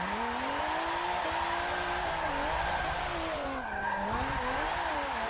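A drift car's tires skid and squeal through a full run, a loud continuous wavering screech over a steady engine roar that rises and falls as the car swings through the course.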